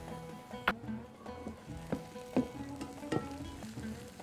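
Onion frying in ghee for a tongue and chickpea tagine, a steady close sizzle with soft crackles and a few sharp clinks of utensils.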